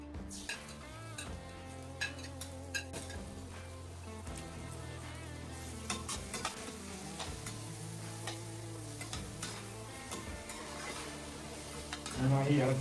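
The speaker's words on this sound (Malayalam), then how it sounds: "സവാള ബ്രൗൺ കളർ ആവുന്നത് വരെ ഇളക്കി കൊടുക്കുക" Chopped onions fry in oil in a pan for chicken fry while being stirred, with a soft ongoing sizzle, scattered utensil scrapes and taps, and a louder clatter at the very end.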